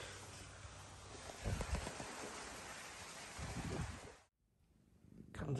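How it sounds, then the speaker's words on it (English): Steady rain falls outdoors in a dense, hissing wash with heavier patter bursts, continuous and fairly close, cutting out briefly near the end before resuming. "It's raining again, Bubbles."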